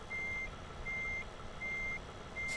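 A truck's reversing alarm beeps four times at an even pace in Euro Truck Simulator 2 multiplayer, the thin electronic tones sounding over a steady rumbling engine, with no talk.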